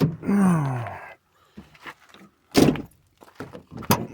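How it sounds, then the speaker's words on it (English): A car door is unlocked and opened during a side mirror replacement: a short tonal whine, then a quiet pause, a solid thunk, and scattered latch and handle clicks, all close by. "what I'm about to do is unlock this door first."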